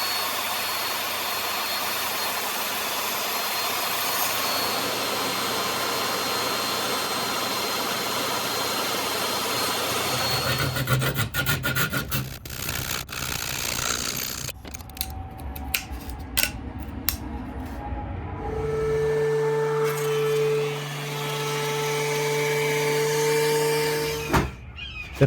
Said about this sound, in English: I'm going to continue using my table saw to resaw